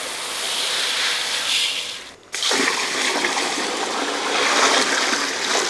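Raw rice tipped into a large pot of water while making nombu kanji rice porridge for a hundred people, a continuous rushing splash with a brief break in the middle before the pour resumes, close and fairly loud.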